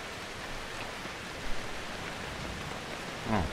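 Steady rain hisses evenly throughout, a constant wash of noise with a faint brief sound near the end, from the video game Outlast 2.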